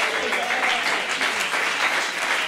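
Congregation applauding the family of a newly installed bishop at a church convocation service, a dense, steady wash of many hands clapping throughout without pause.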